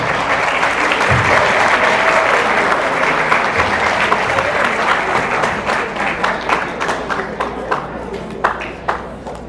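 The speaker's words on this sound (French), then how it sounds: "Merci d'applaudir." An audience applauds finalists at a French text-writing and eloquence competition, a loud, dense wash of clapping that stays steady before thinning into scattered individual claps near the end, with a voice faintly present underneath.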